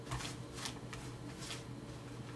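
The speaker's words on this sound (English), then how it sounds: "We'll give the deck an honest, genuine shuffle like they do in certain casinos." A deck of playing cards being shuffled by hand, casino style, heard as four quick riffling bursts at a steady rhythm, close but soft, with no talking.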